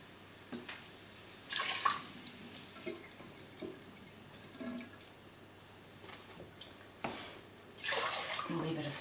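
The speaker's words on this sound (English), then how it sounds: "2 cups of cold water." Cold water is poured into a pot of rice in a few brief, close splashing runs with pauses between them, ending in a steadier pour; no one speaks during the pours.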